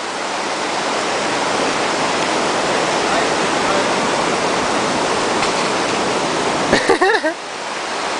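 Steady, loud rush of a waterfall at Monte Crista in Santa Catarina, Brazil, a dense unbroken roar filling the whole stretch, with a brief voice calling out near the end.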